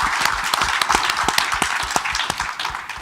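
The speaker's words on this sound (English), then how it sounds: "Clap for them." Audience applause at a panel event on children's advocacy, a short burst of moderately loud clapping from a modest crowd with individual claps standing out, steady for a few seconds then easing slightly.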